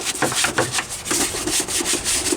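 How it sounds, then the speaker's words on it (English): A brush scrubs a greasy car engine under the hood during a degreasing wash, giving steady, close, rhythmic bristle strokes with short repeated scrapes throughout and no talking. "Scrub it down too, everything under the hood."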